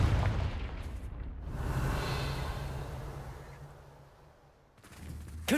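A Confringo blasting spell goes off in Hogwarts Legacy, a broad rumbling boom that swells and fades over a few seconds, followed by a second sharp burst near the end, with no talking.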